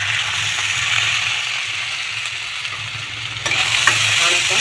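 Sabudana khichdi with chilies sizzles and frys in a pan while a spoon stirs and scrapes through it, a steady close hiss with soft rhythmic scraping and no talk.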